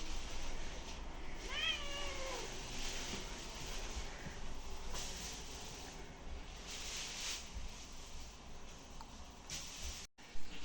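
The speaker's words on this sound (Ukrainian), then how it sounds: "Вона мурчить." A house cat gives a single short meow early on at moderate distance, then quiet room ambience continues with faint background noise.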